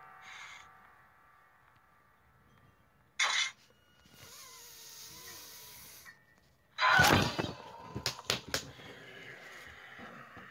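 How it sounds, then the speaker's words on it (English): Two sharp slaps of a fist punching an open palm, separated by a few seconds, followed by a quick burst of lighter taps in a quiet room. "I was literally punching my own hand."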